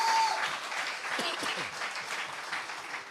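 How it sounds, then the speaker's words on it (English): An audience at a prime minister's forum applauds with steady, dense clapping that carries on throughout, filling the room at moderate volume. "give each of them a round of applause"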